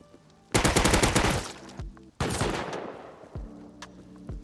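Automatic turret gunfire in the survival game Rust: two long, loud, dense bursts of rapid shots close by, each about a second or more, separated by a short gap and followed by a few scattered single cracks.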